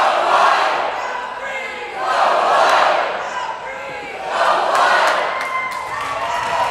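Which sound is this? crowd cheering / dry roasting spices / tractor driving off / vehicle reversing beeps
crowd cheering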